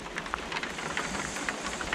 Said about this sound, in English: working in the rain and especially nighttime and heavy rain